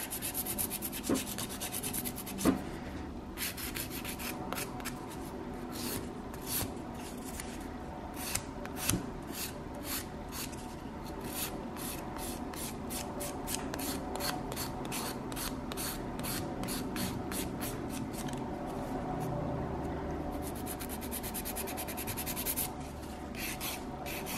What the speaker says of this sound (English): I'm not gonna do much filing on this guy